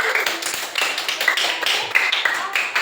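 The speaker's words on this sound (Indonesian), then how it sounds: "Oke, tepuk tangan." A class of children claps together in a dense, steady round of applause, many hands overlapping throughout with slight surges and no pause.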